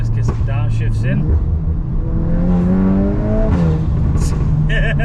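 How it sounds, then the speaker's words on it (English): Stage 2 tuned VW Mk8 Golf R engine roaring and revving through downshifts, loud and close, with pitch sweeping up on each blip; a person talks over it. "All right, let's get some downshifts in."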